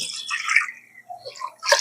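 Rice being washed in water for mint rice, heard as short close splashing and swishing with a few drips, with a brief pause between bursts and no talking.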